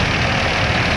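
A tractor-driven maize silage chopping machine with a trolley hitched behind runs in a field, a loud, steady low engine drone with a rough mechanical rumble and no pauses.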